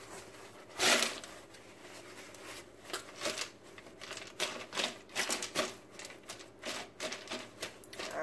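Paper towels patting and dabbing a cleaned fish dry, a close run of quick soft taps and crinkles, irregular and fairly quiet.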